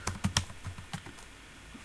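Keystrokes on a computer keyboard during coding, a quick cluster of sharp clicks followed by sparser, softer taps, close and fairly quiet with no speech.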